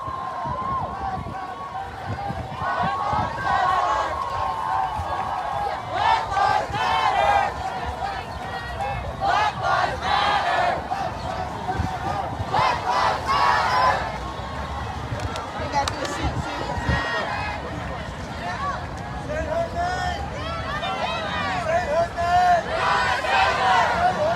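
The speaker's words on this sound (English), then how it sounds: "Multiple different chants going on throughout the crowd. George Floyd's name is being chanted." A protest crowd in Charlotte, North Carolina chanting George Floyd's name, several chants overlapping in a dense roar of many voices, steady and loud throughout.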